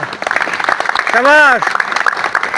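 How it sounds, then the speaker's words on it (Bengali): Clapping breaks out at a push-up training session on a soldier academy field, a dense burst of hands mixed with loud shouting voices and a sustained vocal cry in the middle. "জোরে করতালি হবে একটা"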